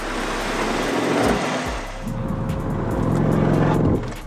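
A BMW M2 (G87) drones with a rough, grinding and vibrating brake noise as it slows to a stop, with low buzzing tones that shift and fade near the end.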